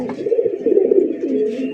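Pigeons cooing close by, a short low rolling coo that swells and fades, heard alone.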